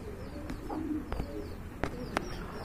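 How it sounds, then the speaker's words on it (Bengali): A pair of Maltese pigeons at a pigeon sale coos softly, with low murmuring calls alongside a few sharp clicks and knocks nearby, and no talk. "একজোড়া মালটেস কবুতর দেখতে পাচ্ছেন"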